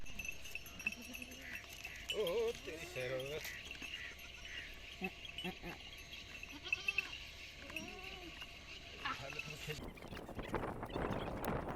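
A goat in the Cholistan desert bleats repeatedly at close range while being milked outdoors, with other farm animals, movement and background voices around it.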